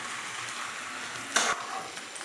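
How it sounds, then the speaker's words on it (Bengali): Pasta stirred in a pan while leftover water cooks off, giving a steady sizzling hiss with one brief scraping stir in the middle, close and even. "আমি এটা আমি নাড়াচাড়া করে কিছুক্ষণ জলটা শুকিয়ে নিই"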